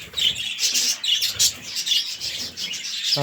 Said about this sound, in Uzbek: Bari nemis qushlari.